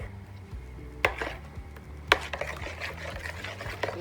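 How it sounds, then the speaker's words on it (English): An egg is beaten in a bowl for vanilla cupcakes, a steady scraping, swishing whisk with a couple of sharp taps against the bowl rim, close and moderately loud. "Mixing up the egg."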